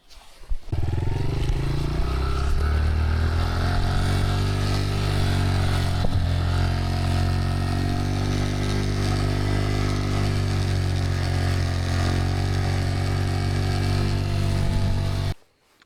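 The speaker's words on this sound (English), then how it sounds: "Let's get back on the bike and go see where else we can find." A motorcycle engine drones steadily at cruising speed, close and loud, with a constant low rumble and no talking.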